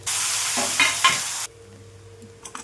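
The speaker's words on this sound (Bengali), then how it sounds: "তেল গরম হয়ে গেছে, এবার মাছটা ভেজে নিচ্ছি।" Rupchand fish sizzles loudly in hot oil, a dense, steady hiss with a couple of stirring scrapes, then abruptly drops to a faint simmer with small clinks.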